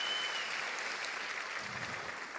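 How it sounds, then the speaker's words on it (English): Audience applause in a room, a steady wash of clapping that stays even throughout and fairly quiet, with no talk over it. "So if we can give them a round of applause, that'd be awesome."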